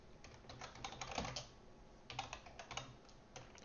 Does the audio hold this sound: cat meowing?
no